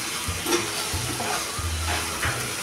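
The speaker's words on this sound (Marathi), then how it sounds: "मिनिटभर आपण असं हे आता परतून घेऊया." Spices such as fenugreek and coriander powder sauté with pumpkin in a pan, giving a close, soft sizzle with rhythmic stirring scrapes repeating every half second or so.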